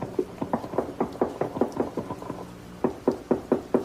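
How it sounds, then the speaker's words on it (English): Repeated hard bangs on a trap door in an old-time radio drama, a steady run of loud, evenly spaced knocks with a short pause midway before several more blows. "You get to the top, just bang on the trap door."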